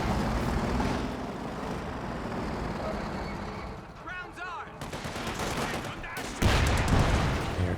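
Machine-gun and rifle fire crackle in Company of Heroes 2, a World War II strategy game, in a 1v1 match, with dense overlapping bursts at mid distance and a heavier, louder blast toward the end.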